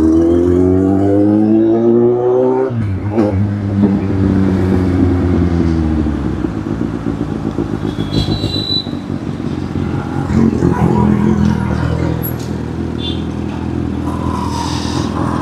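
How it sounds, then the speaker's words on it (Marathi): Busy road traffic in India: a nearby motorcycle engine revs and drones, then cars and bikes pass with rumbling engines, clatter and an occasional horn, loud and close throughout. "भाई बघा आता असं ट्रॅफिक"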